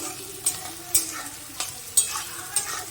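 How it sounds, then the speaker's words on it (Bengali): Sliced onion frying in a pan with a pinch of sugar, a low steady sizzle broken by sharp scraping stirs roughly every half second to second, close up and with no voices. "এবার ভালো করে পেঁয়াজটা আমি ভাজবো।"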